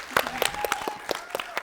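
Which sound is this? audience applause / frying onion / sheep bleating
audience applause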